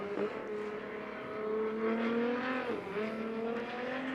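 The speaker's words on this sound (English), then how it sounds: "a lightweight engine in a lightweight boat" Turbocharged six-cylinder Ford Barra engine running on methanol in a lightweight racing boat at Griffith Cup practice, a steady loud harmonic drone that shifts pitch as the engine revs and eases, with no talk.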